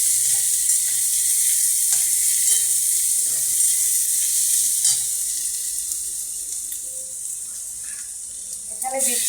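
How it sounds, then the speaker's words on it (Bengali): Garlic frying in hot oil in a pan while being stirred, a loud, steady, close sizzle that holds throughout and eases slightly toward the end, with a few faint clinks underneath. "রসুনটা দিয়ে আমি একটু নাড়াচাড়া করবো।"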